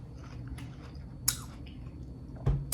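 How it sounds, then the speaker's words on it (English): Breakfast food is chewed close to the mic during a mukbang, with soft wet mastication, a couple of sharp crunchy bites standing out, and no talking. "You like the chewing"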